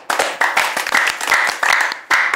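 An audience gives quick bursts of clapping in several rounds, loud and close, with brief gaps between the bursts.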